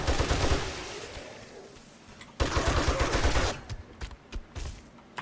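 Bursts of automatic gunfire in the zombie survival game 7 Days to Die, loud, dense rapid volleys for the first few seconds, then a break and separate short shots that trail off as the magazine runs dry.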